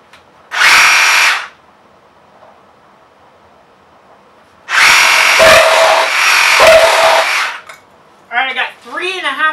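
DeWalt XR cordless reciprocating saw cutting through pipe: a short loud buzzing burst, a pause, then a longer harsh cutting run of about three seconds, followed by a voice speaking.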